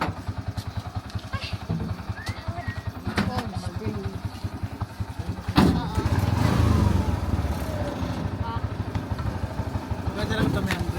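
A motorcycle engine labors up a very steep hill with a rapid, uneven chugging beat, then rises into louder revving partway through, while people talk over it.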